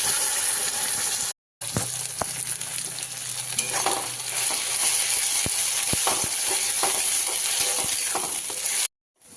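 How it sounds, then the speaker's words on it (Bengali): Spinach paste drops into a pan of frying onions and paneer, giving a steady close sizzle with stirring and scraping throughout and a couple of brief dropouts. "এবার এর মধ্যে আমি পেস্ট করে রাখা পালংটা দিয়ে দেবো।"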